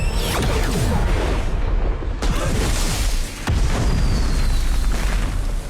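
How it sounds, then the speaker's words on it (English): A truck blowing up in an action movie: a loud, sustained roaring blast with booming low rumble and whooshing debris that fills the whole stretch and never drops off, with a couple of sharp cracks partway through. "Somehow that explosion seemed less intense than the other explosions of the trucks."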